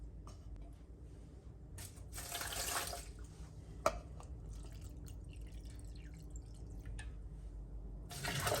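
Water trickles and splashes softly as it is poured into a blender holding rolled oats, a quiet, uneven pour with a sharp tap midway and a brief louder gush at the end.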